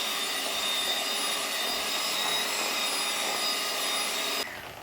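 An electric beater whirs steadily while mixing Christmas fruit cake batter, a loud, continuous hum that drops off abruptly near the end.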